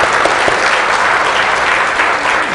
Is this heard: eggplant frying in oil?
no